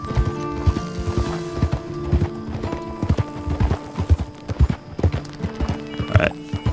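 Horse hooves clip-clop in Red Dead Redemption 2, a busy, uneven patter of several riders' steps close by, with a faint whinny near the end and no speech over it.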